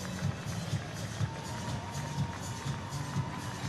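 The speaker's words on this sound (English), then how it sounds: "those of a dark blue persuasion applaud their heroes" Oxford University women's supporters applaud their team after a win over Cambridge, a faint, distant crowd of clapping and cheering with soft voices mixed in.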